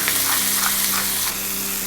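Zucchini fries with beef and onion in a pan, giving a loud, steady sizzle with faint stirring scrapes throughout and no talking.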